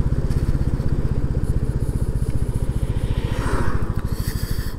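A Royal Enfield Classic 350 single-cylinder motorcycle thumps steadily on a ride, with an even, rapid pulsing beat up close, strong and constant throughout, with wind rush over it and no talking.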